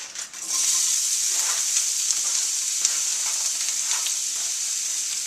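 Chopped onion sizzles steadily in olive oil in a pan, a loud, even frying hiss broken by occasional small pops and stirring scrapes.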